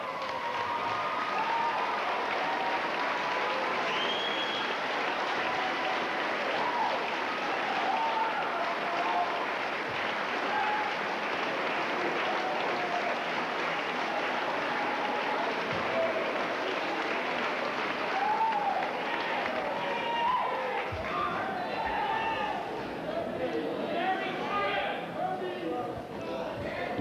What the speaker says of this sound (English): what I'd like to have you all do is stand up and applaud these